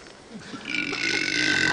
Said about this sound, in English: This kid belches so much it's actually his nickname.